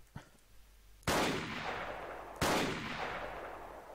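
Two loud gunshots with AP ammunition in the video game ARK, each a sharp blast followed by a long decaying rumble, about 1.3 seconds apart, after a faint click.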